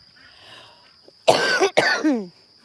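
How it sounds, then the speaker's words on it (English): Farm ducks quack in a loud, close burst of harsh, raspy calls on an Oklahoma farm, following a quiet stretch with a faint steady tone. "the ducks are going to talk to y'all now."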